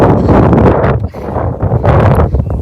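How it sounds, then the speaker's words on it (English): Heavy wind roars across the microphone in loud, uneven gusts on the Appalachian Trail in Tennessee, dipping briefly before surging again. "Very windy."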